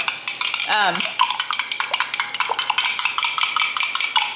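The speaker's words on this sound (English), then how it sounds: "I don't know why I'm stirring this. I should have shaken it, but here we are." A spoon stirs salad dressing in a bowl, giving a steady run of quick clinks and scrapes against the sides, close and fairly loud, with a brief voice near the start.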